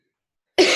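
A single short, sharp cough bursts out close and loud after silence, alone with no talk, during an evening team call.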